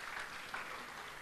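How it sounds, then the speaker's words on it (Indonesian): Brief, fairly faint applause from a church congregation at a Sunday service, a soft wash of clapping lasting about a second with no voices over it. "Yang setuju, berikan tepuk tangan"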